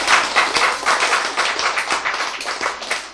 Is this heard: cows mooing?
no